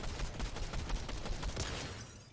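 Heavy volleys of video game gunfire strike the player in Fortnite, a loud, rapid crackle of impacts that fades slightly toward the end.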